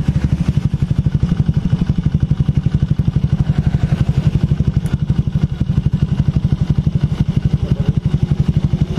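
2019 Honda Beat scooter, starter cranking the engine in a rapid, loud, steady chugging pulse that continues without pause for the whole stretch, close by.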